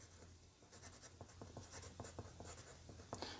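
Pen scratching on paper as a caliper measurement is written down by hand, a soft, close series of short strokes and scrapes in an irregular rhythm over a quiet background.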